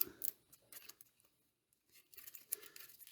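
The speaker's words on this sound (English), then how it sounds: "Oh, we're shuffling the cultist deck, right?" Cards from a cultist deck in a Cthulhu: Dark Providence board game are shuffled close up, giving two quick bursts of crisp riffling rustle with a quiet gap between.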